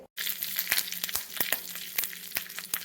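Oil hisses and spits as the final tempering for an elephant foot yam flower curry hits the pan, loud and close, with rapid crackling pops throughout.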